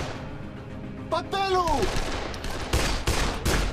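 Gunfire in the zombie video game Dead Island, a few sharp shots and bursts mixed with game effects and a falling whine, fairly loud and close, with a voice briefly speaking.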